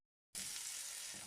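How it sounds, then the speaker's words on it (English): Onions hit a hot pan with a sudden burst of sizzling after a moment of silence, then a steady, fairly faint hiss continues up close. "So I'm adding my onions."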